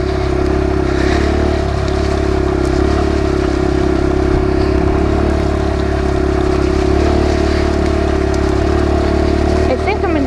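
A Kawasaki KLX 140 dirt bike engine drones steadily under a rider, loud and close with a constant low hum and some clatter throughout, while a voice speaks over it.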